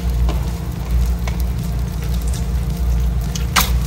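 Pop Rocks candy crackling inside slime in a mixer: a steady, loud motor hum with fine, dense sizzling crackle on top and a few sharper pops, continuous throughout without talk.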